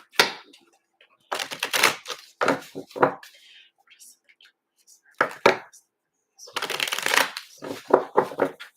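Tarot cards shuffle in several quick riffling bursts separated by short pauses, close and fairly quiet, with no one talking.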